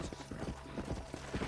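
Horse hooves clip-clop steadily in Red Dead Redemption on Xbox 360, an even trotting rhythm of close, moderately loud hoofbeats over light ambient noise.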